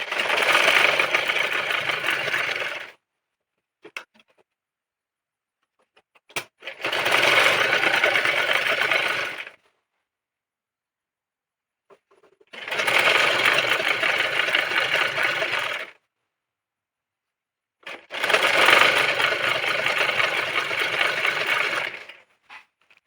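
Electric sewing machine stitching the folded hem of a petticoat, running in four steady bursts of a few seconds each, separated by quiet pauses, with a close, even whirring hum.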